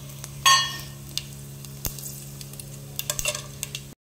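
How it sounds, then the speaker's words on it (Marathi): Caraway seeds and spices hit hot oil for tempering, giving a soft sizzle with scattered sharp crackles and pops over a faint steady hum, ending abruptly. "आता आपण थोडंसं शहाजिऱ्याची फोडणी देतोय"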